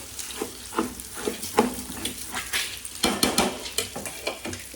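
An egg fries in a pot while a metal spatula scrapes and taps against it, giving soft sizzling under a steady run of scattered clinks and knocks.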